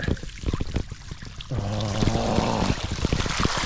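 A gravel bicycle rolls through a flooded trail crossing after heavy rain, with splashing and rushing water growing louder and steadier midway, close and continuous.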